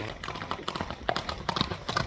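Light-footed horse's hooves clip-clop in a quick, regular rhythm at close range, with a voice talking over the steps.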